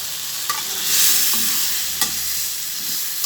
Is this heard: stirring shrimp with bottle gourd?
yes